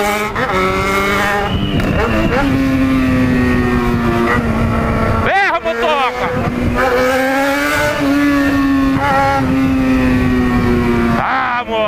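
Motorcycle engine revving hard, with repeated rising and falling whines across the whole stretch, loud and close, with a person talking over it at moments.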